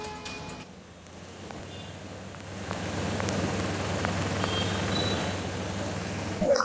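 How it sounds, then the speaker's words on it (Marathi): Heavy monsoon rain in Vikhroli, Mumbai, where streets are waterlogged, a dense, steady hiss of rain falling on surfaces with a low rumble beneath, unbroken and free of talk. "मुंबईत मुसळधार स्वरूपाचा जो तो पाऊस सुरू असल्याचं पाहायला मिळतं"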